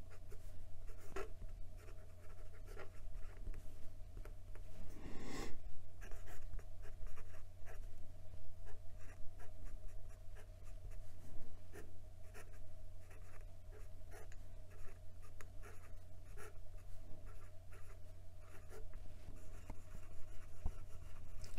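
A fountain pen with a stub nib, fitted with a Jowo nib on a Leonardo Furore Grande, scratches across paper in a long run of soft, close, irregular strokes with one louder scrape near the start.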